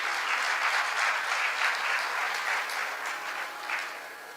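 Steady applause from a large audience at a religious discourse gathering, a dense continuous patter of many hands clapping that holds strong, then eases slightly toward the end.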